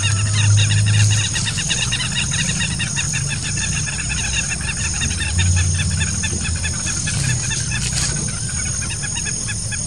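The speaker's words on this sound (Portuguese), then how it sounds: "se ouve a algazarra das quero-quero" A flock of southern lapwings (quero-quero) clamoring in the Brazilian sertão, with rapid repeated strident calls over steady insect buzz, some low rumbling noise and a constant high whine.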